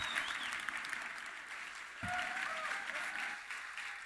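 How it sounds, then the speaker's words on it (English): Audience applause at a film and games panel in a hall, a steady even wash of clapping heard from a distance, with a brief whistle or cheer partway through. "A huge round of applause."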